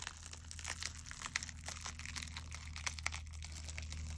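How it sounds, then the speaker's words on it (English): A foil transfer sheet is peeled slowly off a black surface, giving a soft continuous crinkling and crackling with small pops over a low steady hum, close and fairly quiet. "I'm going to turn this over and I'm going to peel this off."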